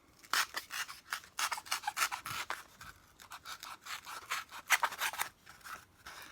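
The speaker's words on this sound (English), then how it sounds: "take my really sharp X-Acto knife and cut a hole in my toilet paper roll" A really sharp X-Acto knife slices a hole into a cardboard toilet paper roll, giving close, dry scraping and rasping cuts in quick irregular bursts with short pauses between strokes.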